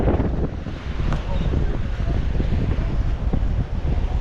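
Strong wind at sea on a boat in the West Philippine Sea buffets the microphone in steady rough gusts, with a low roar like open water beneath it.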